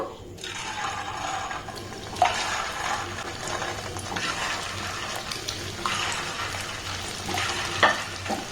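Continuous bubbling and sizzling of semolina gulab jamun sweets frying in hot oil, with occasional soft clinks of a utensil, steady and close.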